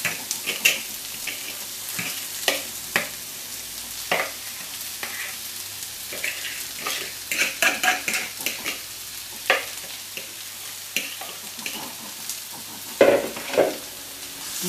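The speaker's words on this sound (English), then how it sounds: "Sizzle." Bubble and squeak mixture sizzling steadily in a hot frying pan, a constant crackling hiss punctuated by repeated scrapes and clatters of stirring and patting down, close by.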